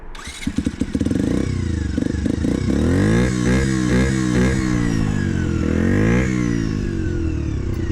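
A Bulite 50 cc moped engine starts up and revs, its buzzing note rising and falling through several throttle blips as it pulls away, loud and close.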